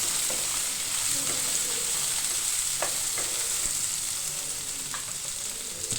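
Cut ivy gourd pieces frying with garlic in a pan, a dense, even, close sizzle throughout with a few faint clicks of a spoon.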